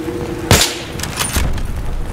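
A single sharp gunshot in Battlefield 3 during a night mission, loud and close, followed by a couple of fainter echoing reports.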